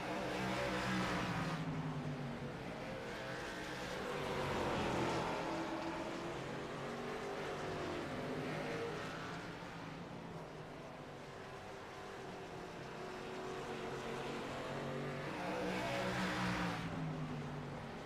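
Stock race cars roar around Hickory Motor Speedway, engines swelling and fading in long sweeps as the pack passes, a continuous loud drone with no talk over it.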